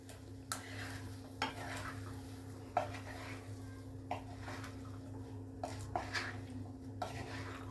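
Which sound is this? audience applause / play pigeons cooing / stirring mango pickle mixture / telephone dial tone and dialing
stirring mango pickle mixture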